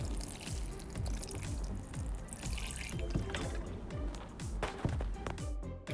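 Water splashes and pours onto garden plants in a steady, close stream with irregular spattering drips throughout, fairly quiet and with no voices.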